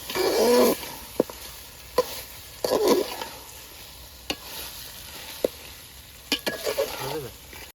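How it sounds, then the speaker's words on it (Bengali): Mutton curry with whole spices is stirred and sautéed in a pot, with bursts of sizzling and scraping, sharp clicks of a utensil against the pot at intervals, and a brief voice near the end. "এই যে এখন আমার মাংসটা কষানো হয়ে গেছে"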